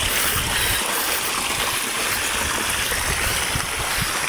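A waterfall pours without a break, filling the clip with a loud, steady broadband rush of water and no pauses.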